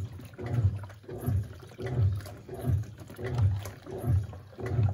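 A Panasonic NA-F140B6 washing machine drains water after washing work jeans, with rhythmic gurgling surges of water that repeat about every 0.7 seconds.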